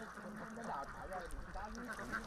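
A flock of white laying ducks on a fish pond in Lâm Đồng gives scattered, quiet quacks at a distance, with a voice audible alongside.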